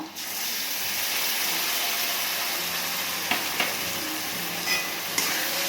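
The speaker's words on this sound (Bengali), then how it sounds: "মশলাটাকে কষিয়ে নিচ্ছি।" A spice paste of mustard, poppy seed and green chili sautés in a pan for Bengali jhinge aloo posto, giving a steady close sizzle broken by a few sharp stirring clicks.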